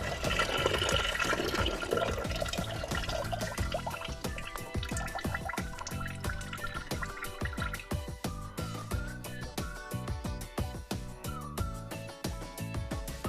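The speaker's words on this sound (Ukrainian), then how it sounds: "Кран відкручений, і вода добре тікає з двигуна." Rusty water splashes and trickles steadily from the engine drain tap of a Kentavr 1012DE walk-behind tractor, with rapid irregular drips and gurgling, fairly close and continuous throughout.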